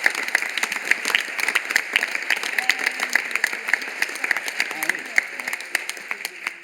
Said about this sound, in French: qui avez su nous faire du bien avec vos rires et vos applaudissements